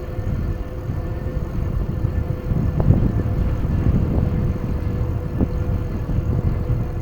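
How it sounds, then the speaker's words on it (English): Steady wind buffets a rider on a Jasion YM1 48-volt 500-watt electric bike at about 18.5 mph, a constant low rumbling roar with a few soft gusty bumps, continuous and close. "Definitely riding in the wind."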